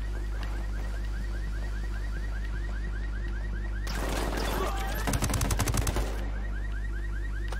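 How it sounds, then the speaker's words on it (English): Automatic gunfire from Ghost Recon Wildlands on PS4, a dense burst of rapid shots rattling out mid-clip over a steady game soundscape with low engine-like hum. "I'm opening fire on these shitheads."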